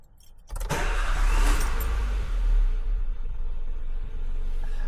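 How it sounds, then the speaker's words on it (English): Nissan Micra with an intermittent no-start fault cranking briefly and catching, then settling into a steady, fairly quiet idle close by, with a faint jingle at the start. "So we're going to start the vehicle up."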